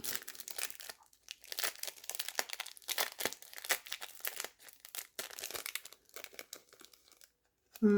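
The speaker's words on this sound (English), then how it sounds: "It's only a little packet of foil. I'll open that up." A small foil packet being opened, with close crinkling and tearing rustles in irregular bursts over several seconds, quietening near the end, no talking.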